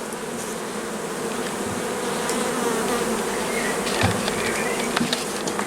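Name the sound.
honey bees buzzing while moved from a nucleus hive to a hive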